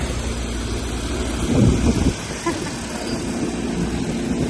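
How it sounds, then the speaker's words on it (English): A steady whirring buzz of a drone's small rotors hums continuously while seeding cover crops, rising briefly in the middle, while people talk nearby. "It's like a little mini helicopter."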